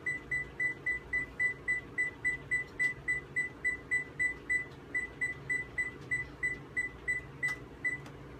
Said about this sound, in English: So we set our timer for 30 minutes.